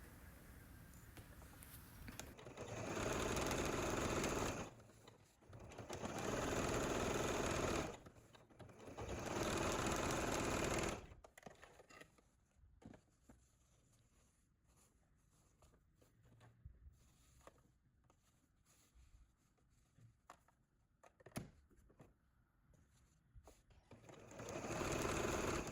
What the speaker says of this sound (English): I just gently hold the fabric while I'm stitching